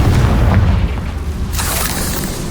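Spell blasts from Bombarda and Confringo go off in the Hogwarts Legacy video game, one deep booming roar that rolls on and then trails into a hissing rush, loud and with no talk.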